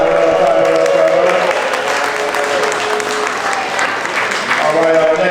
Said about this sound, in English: Let's go ahead and clap it up, clap it up